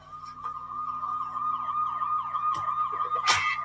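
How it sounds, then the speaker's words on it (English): An ambulance siren wails steadily as the vehicle arrives, its rising and falling tone clear and fairly close over a low background rumble, with a brief clatter near the end. "Ambulance just turned up and stuff"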